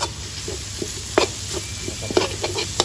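Fermented pork (jin som) with egg being stir-fried in a pan, a steady sizzle with intermittent scraping and tapping stir strokes close by, no talking.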